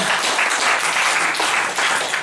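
Clapping from a panel audience at a fan convention, a loud continuous burst of many hands close by, holding steady for a couple of seconds.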